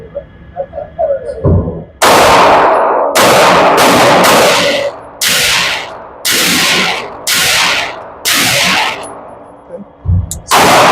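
Loud gunshots from a Kimber Eclipse pistol at an outdoor shooting range, about eight close shots fired back to back in quick, fairly even succession with sharp attacks and brief ringing decay between them.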